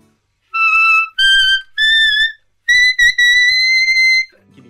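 A Chinese-made C clarinet plays a short run of clear, bright sustained notes, loud and close with brief gaps between phrases and no talking.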